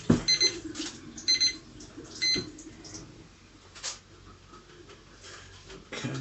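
A darkroom timer alarm sounds during film development, sharp electronic beeps repeating in a short burst at the start, then fading into faint room noise and handling sounds.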